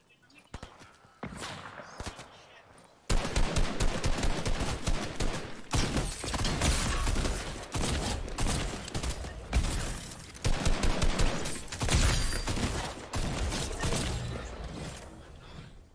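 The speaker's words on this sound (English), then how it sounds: "Start shooting at the same person." Fortnite gunfire: after a quiet start, dense, close rapid-fire bursts and single shots rattle almost nonstop, with short pauses between volleys and a few crashing impacts.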